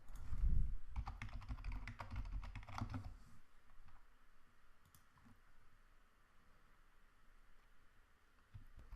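Fingers tap out a short name on a computer keyboard, a quick run of close, light key clicks for about three seconds, then quiet room hiss with a stray click or two.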